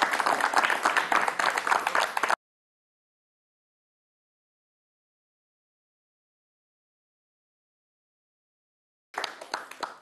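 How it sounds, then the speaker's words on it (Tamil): An audience applauds a young child taking part in a Tamil kids' show, the clapping loud and dense for about two seconds, then a long silence before another short burst of applause near the end. "அவருக்கு ஒரு கைத்தட்டு கொடுத்துருங்க"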